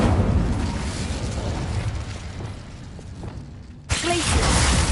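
An Incendio fire spell bursting in the game Hogwarts Legacy: a loud rumbling blast that fades over a few seconds, then a sudden bright burst of effect noise near the end.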